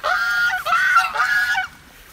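Geese honking loudly and close by in a flooded food-forest garden, three long overlapping nasal honks in quick succession, then quiet.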